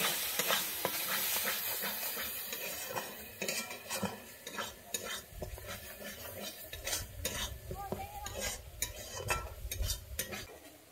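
Giant taro root curry stirred and sautéed with spices in a pan, with quiet scraping and clinking of a spoon against metal over a low sizzle, irregular strokes throughout and no speech.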